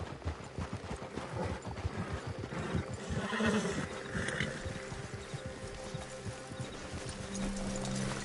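Horses clip-clop steadily on the ground in Red Dead Redemption 2, with several overlapping hoof rhythms, moderately close, over a low outdoor ambience and a brief whinny-like sound midway.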